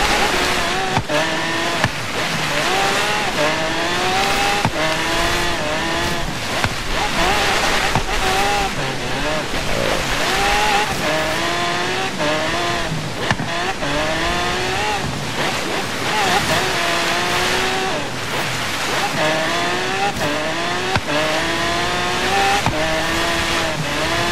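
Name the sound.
car drifting in Forza Horizon 3, a video game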